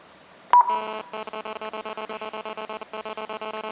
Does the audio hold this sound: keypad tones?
yes